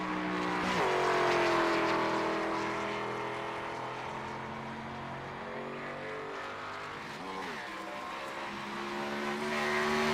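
A race car on a timed qualifying lap at Watkins Glen, its engine loud and close with a steady roar, briefly swooping in pitch through gear changes and lift-offs.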